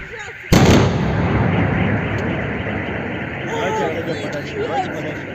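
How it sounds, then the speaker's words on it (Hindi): A single loud rocket blast during shelling of Belgorod, Russia, a sharp burst followed by a long rumbling decay, with faint voices and ambient noise after. "धमाकों की खतरनाक आवाज तो आई है"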